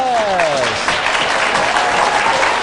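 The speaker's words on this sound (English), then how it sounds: "How about a big welcome and a round of applause for Jay Rodriguez?" Studio audience applause welcoming a guest onto a game show, dense sustained clapping with cheering and a brief musical sting at the start.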